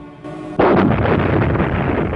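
An artillery cannon fires in a wartime firing-range test, one sudden loud boom after a brief hum, followed by a long rumbling roar and echo that fades slowly.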